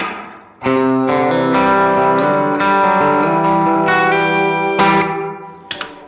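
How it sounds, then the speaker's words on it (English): Sustained electric guitar chords ring out one after another through a Line 6 Helix short plate reverb, bright and brief, smoothing each change, ending with a sharp pluck. "I use a lot of plate reverb. This is kind of like a shorter one"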